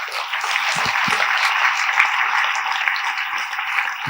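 An audience claps at a Tamil matriculation school guidance event, with moderate, steady applause from many hands sustained across the clip, slightly muffled and even in level.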